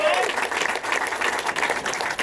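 An audience at a Tesla solar keynote claps and cheers in a steady burst, with a speaking voice rising over it at the very start.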